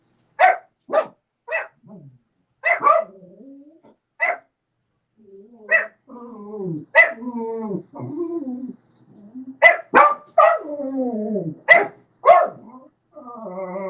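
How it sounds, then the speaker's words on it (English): A dog barks in repeated sharp bursts, several single barks spaced apart and then quicker clusters, mixed with whiny, whimpering tones, close and fairly loud with no talking. "If we could only understand that bark."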